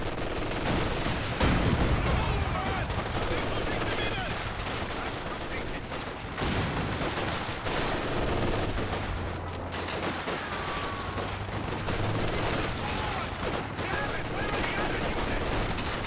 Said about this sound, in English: Look at that grenade launcher's range.